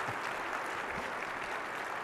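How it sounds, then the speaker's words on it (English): An audience at an AWS re:Invent 2018 conference session applauds two people called back on stage, a steady wash of clapping that is fairly quiet and even throughout, with no voices over it. "Please give them a warm round of applause"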